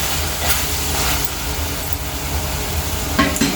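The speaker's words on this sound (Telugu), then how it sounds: "చూడండి చక్కగా ఫ్రై అయిపోతున్నాయి" Ingredients for sambar frying in a hot pan, a steady broadband sizzle running throughout with occasional brief stirring scrapes near the end, close and moderately loud.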